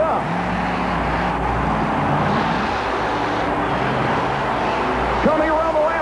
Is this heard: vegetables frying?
no